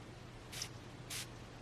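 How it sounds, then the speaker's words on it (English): Two short hissing sprays from a perfume atomizer, Jean Paul Gaultier So Scandal!, a brief pause between them, quiet and close against a faint background. "The atomizer it's pretty good. I will spray to show you guys."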